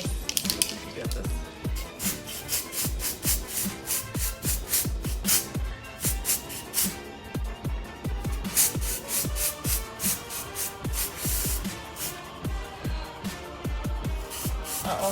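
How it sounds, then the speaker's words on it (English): Short bursts of aerosol colour spray being sprayed near the front of the hair for Halloween makeup, hissing in rapid repeated pulses of varying length, close and crisp with no voice over them. "So this one I'm gonna spray more towards the front"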